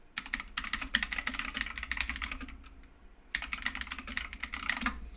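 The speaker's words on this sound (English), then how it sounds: "I'll put it in the chat with my clicky keyboard" Clicky computer keyboard typed on in two quick bursts of rapid, crisp keystrokes separated by a short pause, close and fairly quiet, with no voices over it.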